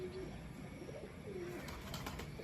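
A pigeon coos softly in its cage, a low repeated call heard twice at a distance above a steady background hum.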